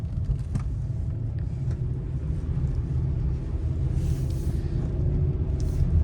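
A car pulls out of a parking lot at the start of a road test, its steady low engine and road rumble continuous throughout, close and moderately loud, with no talk.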